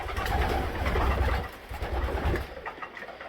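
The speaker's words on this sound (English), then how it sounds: "There's 23 pigeons in here." Racing pigeons in a loft coo softly and continuously, a close, low murmuring from a flock of about two dozen birds, with no talk.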